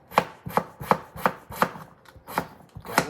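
A knife slices a potato on a cutting board in about nine crisp, evenly spaced chops, close and clear, with no talk.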